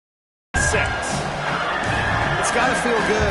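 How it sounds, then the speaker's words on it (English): A packed college football stadium crowd at a South Carolina game bursts into a loud, full-throated roar that starts abruptly and holds steady, with an announcer's voice woven through it. "This crowd, full throat, splitting the eardrums"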